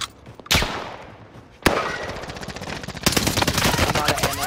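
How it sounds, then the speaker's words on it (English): Rapid machine-gun-style gunfire from an enemy team in a video game, loud and close, with sharp single cracks followed by a sustained rattling burst. "We're getting shot from another team."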